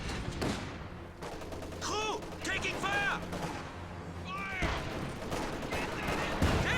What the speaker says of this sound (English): Pack howitzer firing on those.